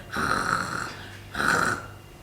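Two long, raspy snores, each a drawn-out rattling breath with a pause between, close and moderately loud.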